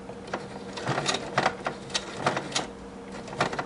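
A sewing machine stitches slowly through thick layered fabric for a doll pajama set, giving a steady mechanical whir with rhythmic needle thumps, close and fairly loud.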